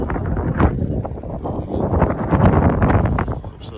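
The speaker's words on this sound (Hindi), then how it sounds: "खूबसूरत मंजर, हवा चल रही है" Wind blows through a Kashmir village, gusting loudly with rustling and buffeting across the microphone and no pauses.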